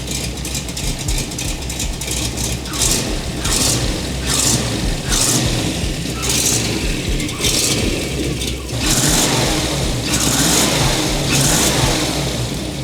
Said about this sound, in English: That's a running car.